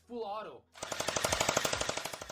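A gel blaster in full-automatic mode lets off a rapid, steady burst of closely spaced shots, loud and near, right after a brief voice-like sound.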